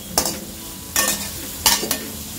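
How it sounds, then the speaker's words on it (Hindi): Finely chopped onion fries with ginger in a pan over a low flame for an aloo baingan curry, a steady soft sizzle broken by three scraping stirs of a spoon, close and clear. "इसमें डालेंगे एक onion finally chopped low flame में गोल्डन होने तक फ्राई कर लें"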